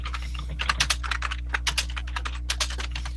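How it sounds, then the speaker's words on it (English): Someone types on a computer keyboard in quick irregular bursts of clicks, fairly close but quiet, over a steady low hum. "Someone's typing out."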